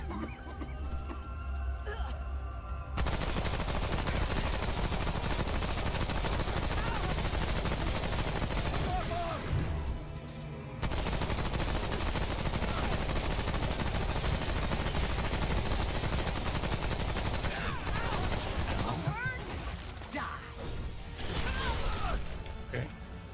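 Continuous heavy gunfire in the video game Remnant as players shoot at a boss, with dense, loud rapid bursts that persist for most of the stretch and a few brief lulls between volleys.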